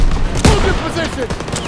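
Gunfire crackles in a World War II battle in Call of Duty WWII, with a sharp loud shot followed by scattered bursts under shouted voices.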